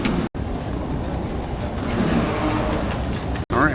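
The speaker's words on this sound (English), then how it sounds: "Packed out on the train." Crowded passenger train interior, with a steady, loud broadband rumble of the moving carriage throughout and no clear talk.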